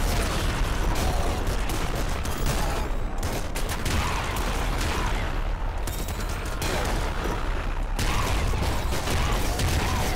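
Dense, continuous gunfire and explosions in the top-down shooter game Nuclear Throne, a steady loud barrage of rapid shots and blasts with no pauses.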